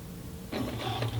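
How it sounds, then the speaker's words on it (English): Sewing machine stitching along the folded top edge of a sleeve hem on a mini dress, a steady mechanical whirr and clatter that starts abruptly after a half-second of quiet and runs close and continuous. "you're then going to take it to the sewing machine and you're going to stitch right along this top folded"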